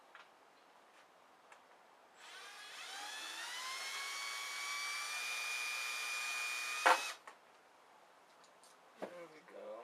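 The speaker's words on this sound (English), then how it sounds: "Looks like that's not going to fit, so get out the trusty drill." A small handheld drill whirs steadily for about five seconds on a model aircraft part during a servo install, fairly quiet and close, then stops, with faint handling noise around it.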